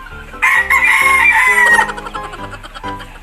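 A rooster crows loudly and close, one long cock-a-doodle-doo followed by shorter clucking calls, with no voices.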